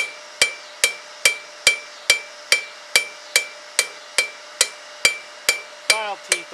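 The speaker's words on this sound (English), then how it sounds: "I'm going to take my cross peen and I'm just going to kind of" A cross peen hammer striking file teeth to lay them over: about fifteen sharp, ringing metallic blows at a steady, quick rhythm, close and loud, with no talking.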